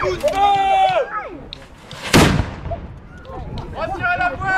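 A single loud cannon or black-powder gun blast at an equestrian tournament and artillery show in Courville-sur-Eure, a sharp boom midway, with people talking before and after.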